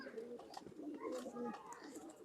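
A Banaras pigeon cooing softly in short repeated low coos, close but faint, with someone talking over it in places.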